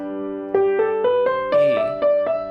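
A singer's lip trill vocal exercise, a buzzing voiced sustained tone that steps through several pitches in pulsed segments, rising and sliding, close and steady with no talk.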